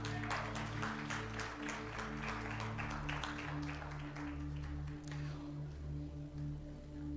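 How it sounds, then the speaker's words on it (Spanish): A church congregation applauds women during a sermon, a burst of clapping that thins and fades out over a steady low electrical hum, with quiet room sound after. "un aplauso a las mujeres"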